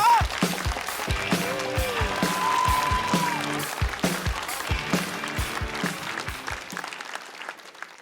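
Studio audience applause welcoming a stand-up comedian onto a Chinese comedy competition stage, with the sustained clapping washing over music and fading by the end.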